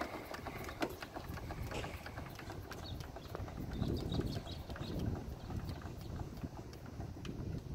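A QSC KLA speaker is raised on a crank-up pole stand, with a steady mechanical ratcheting clatter of the crank turning up close, swelling slightly midway.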